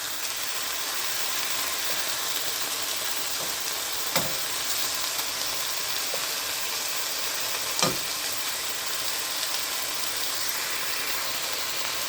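Chicken breast pieces frying in a pan, browning to golden, a loud steady close-up sizzle with two brief knocks from turning, no talking.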